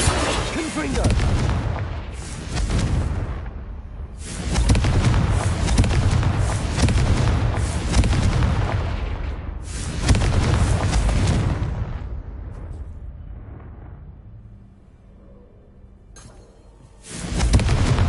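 Explosive blasting spell in the Hogwarts Legacy video game, giving a series of loud booming blasts with long rumbling tails, a quieter lull, then another burst at the end, with a voice heard over the action.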